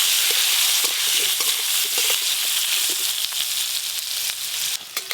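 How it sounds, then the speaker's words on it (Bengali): Raw green tomatoes fry in a pan, giving off a loud, steady sizzle with occasional stirring clicks and scrapes and a brief dip near the end. "কাঁচা টমেটো দিয়ে ডিম রান্নার জন্য কাঁচা টমেটোগুলো আগে ভালো করে ভেজে নেব।"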